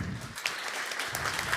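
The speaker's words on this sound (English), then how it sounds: "Let's have a round of applause for Dario" Audience applause at a banking expo main stage after a speaker finishes, a steady wash of clapping from a conference crowd that holds evenly for under two seconds.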